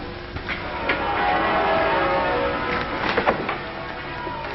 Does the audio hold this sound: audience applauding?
no